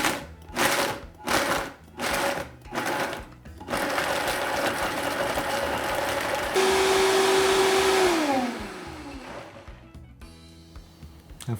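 A Vitamix blender whirs through scallions, oil and soy sauce, first in short pulsing bursts, then running continuously with a loud, steady motor whine that rises in speed and winds down to a stop, with no talk.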